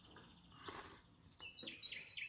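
Birds singing as a story sound effect, a scatter of bright chirps and high trilling notes that grow busier toward the end, with no voices over them.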